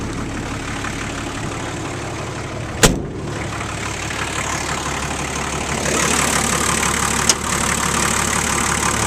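A Nissan turbo diesel in a 1980 IH Scout idles steadily after starting without glow plugs, a low, even engine drone with one sharp clack near the start and another later.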